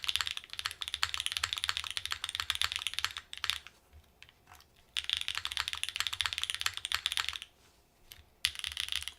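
A custom mechanical keyboard fitted with Obscura switches is typed on in close, crisp bursts of rapid clacky keystrokes, separated by brief pauses.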